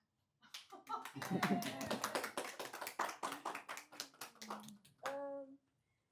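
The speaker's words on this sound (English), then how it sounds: "And can we clap?" A small audience at a Buddhist practice talk claps before a break, heard as distinct, fairly close individual claps in an irregular run, then a brief voice near the end.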